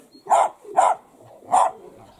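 A dog barks three times close by, two quick barks followed by a short pause and a third, each loud and sharp against a quiet background.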